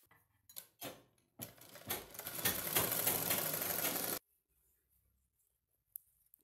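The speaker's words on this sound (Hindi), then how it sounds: "मैं आपको इसे मशीन पे स्टिच करके बताती हूँ कि इसे किस तरीके से आपस में ज्वाइंट करना है" Bias binding strips for thin cord are joined on a sewing machine in one short run of close, rattling stitching after a few brief taps, then the motor stops and the room falls quiet.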